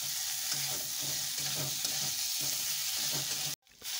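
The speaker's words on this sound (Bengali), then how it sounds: "এবার আমি ভালো করে আলুটা ভেজে নেব।" Potato pieces frying in a pan with ginger paste, cumin and chili powder, a continuous loud sizzle broken by repeated stirring scrapes, then a sudden brief cutoff before the sizzle returns.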